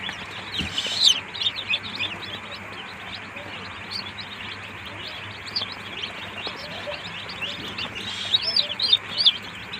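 Many tiger chicken chicks peep in a steady high-pitched chorus of overlapping chirps while being given water by hand, with a few louder bursts near the start and end and faint background talk.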